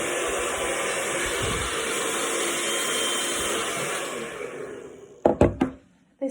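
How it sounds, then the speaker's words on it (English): A hair dryer blows steadily while hair is being dried, a loud, even, close-up whoosh that holds for about five seconds and then stops, leaving a few sharp knocks and clicks. "I like to use my hairdryer to release it from the brush"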